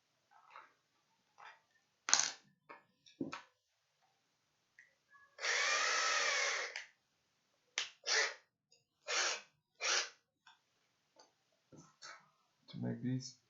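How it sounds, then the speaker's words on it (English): A small 2mm drill bit whines in one sustained burst of about a second and a half while parts for a Schistoscope are built, framed by scattered clicks, handling noises and a person talking. "Let's use the 2mm drill."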